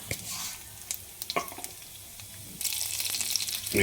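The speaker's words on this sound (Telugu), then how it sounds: "మినపప్పు శనగపప్పు ఆవాలు ఇవి వేయించాలి అలాగే జీలకర్ర కూడా వేయాలి" Urad dal, chana dal and mustard seeds fry in oil with a soft sizzle and light spatula clinks, growing louder and denser partway through, close and fairly quiet.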